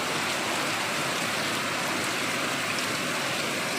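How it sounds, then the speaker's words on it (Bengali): Steady rain falls outside, a dense even hiss of drops on surfaces that holds constant throughout with no talking. "মিনি এইখানে বইয়া বইয়া বৃষ্টি দেখে"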